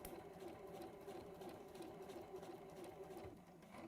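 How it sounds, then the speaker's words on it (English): A sewing machine runs in a steady, continuous mechanical hum as it stitches along the edge of a piece of fabric in a home craft session, close and fairly even throughout with no talk. "You just want to sew along there."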